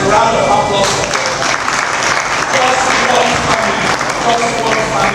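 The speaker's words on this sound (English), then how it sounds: "Can we get a round of applause for that?" A homecoming crowd at an alumni fundraising auction breaks into loud, sustained applause, a thick continuous roar of clapping close by with voices mixed in.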